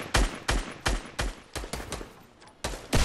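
Rapid bursts of gunfire in the Fortnite video game, about nine sharp, loud shots in a fairly regular rhythm with a short pause before the final two.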